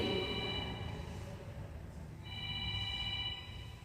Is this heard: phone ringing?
yes